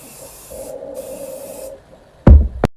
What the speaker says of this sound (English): You want to spray this all over your face.